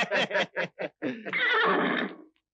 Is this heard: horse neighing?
yes